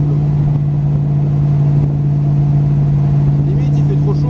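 An AC Cobra Shelby pulls away in second gear, its engine giving a steady, loud low rumble that holds through the clip.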